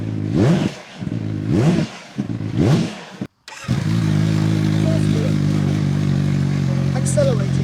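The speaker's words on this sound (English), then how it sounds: "Third gear. Accelerating." A CFMOTO 750SR-S motorcycle accelerates hard in third gear, its engine rising in pitch through three loud revving pulls before settling into a steady, powerful drone close by.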